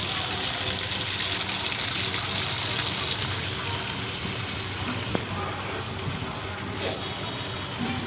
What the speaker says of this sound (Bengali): ভালো করে জলটা ভরো হ্যাঁ